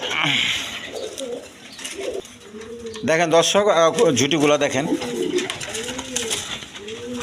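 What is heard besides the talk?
Bombay pigeons cooing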